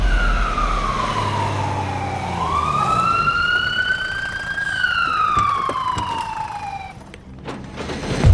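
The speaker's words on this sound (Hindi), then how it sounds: "hello ambulance" An ambulance siren wails loudly and close by, its tone sweeping slowly up and down in long glides before fading near the end.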